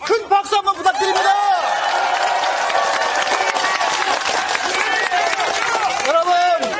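A large crowd applauds loudly and steadily at a Democratic Party political rally in Gunsan, North Jeolla, a dense wash of clapping that swells in after a brief spoken lead-in and carries to the end, where a voice speaks over it.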